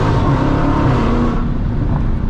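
A Dodge SuperStock Redeye Widebody engine revs hard and drops through a quick upshift, a loud close roar from inside the car that dips in pitch partway through.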